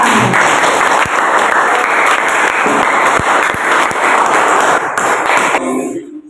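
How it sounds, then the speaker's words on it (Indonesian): A classroom of students claps loudly and densely in appreciation after a group presentation, with scattered sharper claps and thumps, before cutting off abruptly near the end. "Tepuk tangan."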